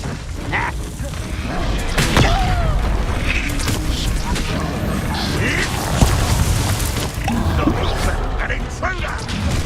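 A Confringo spell explosion in Hogwarts Legacy goes off amid dense combat noise, with loud booms, crashes and mechanical clatter layered over continuous rumble.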